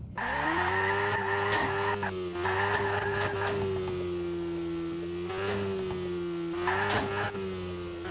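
A rally car in a video game drifts around the Redwood Valley track, its engine droning loud and steady under long squealing tire skids that rise and fade in waves.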